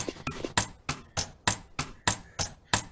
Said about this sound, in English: the sounds of this hammer is already annoying me